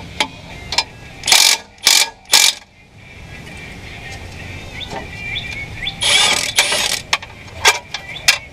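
Big 3/4-inch bolt on the flexplate of a 1989 Jeep XJ with the 4.0L engine being broken loose with a ratchet: several loud, bright bursts of metallic clicking in two groups, with short quieter clicks between.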